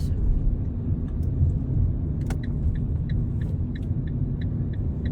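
A car driving on a road in Italy, a steady low rumble of engine and tyres heard from inside the cabin, with faint ticking clicks like a turn indicator.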